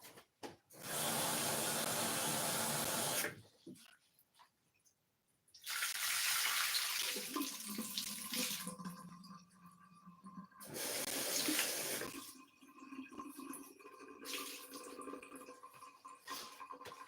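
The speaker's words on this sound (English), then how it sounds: "So I'm going to wash that straight away." Water runs from a kitchen tap in bursts while washing up during focaccia baking, three loud steady gushes separated by quieter gaps with clinks and handling noises.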